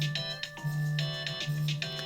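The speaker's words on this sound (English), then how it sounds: "The phone's ringing." A phone rings in repeated short tonal bursts with a steady rhythm, faint against background music.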